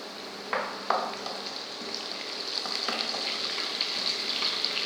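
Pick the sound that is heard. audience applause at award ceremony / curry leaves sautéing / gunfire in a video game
curry leaves sautéing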